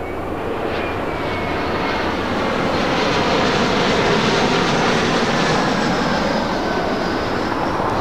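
A jet airliner roars steadily overhead as it comes in to land on runway 2 at LAX, a broad, sustained engine rumble with a faint whine that swells slightly toward the middle and holds loud throughout.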